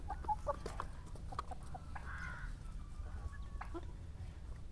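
Young roosters, including small Leghorns, and chickens cluck and squawk intermittently over a steady low background rumble, with short calls and a brief crow-like cry.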